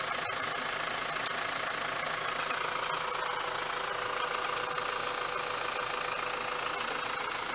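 The 4.9L turbo diesel in a 2001 Mitsubishi Fuso FE145 flatbed truck idles with a steady, even clatter and a low rumble, close and constant throughout, with a few sharp knocks early on.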